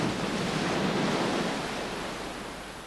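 Ocean waves washing ashore on a beach, a broad, steady rush of surf that swells and then slowly recedes, with no voices.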